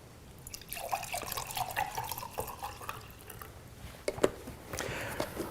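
High-pH (11.5) Kangen water poured or dripping into a container, a soft trickle with scattered drips and splashes, fairly faint and close, with no talking.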